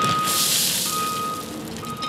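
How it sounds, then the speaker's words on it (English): A skid steer dumping stone while laying a septic drain field, with its reversing alarm beeping in a steady repeating tone over a loud rush of tumbling stone and engine noise. "And the skid is dumping stone."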